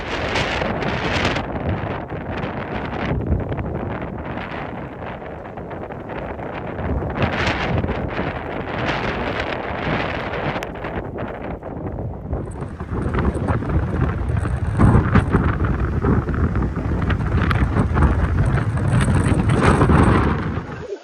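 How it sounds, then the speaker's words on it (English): Strong wind buffets a microphone outdoors as a continuous loud roaring rush, gusting and swelling over about twenty seconds, with no voices. "we might be able to see some of this wind blowing up towards them"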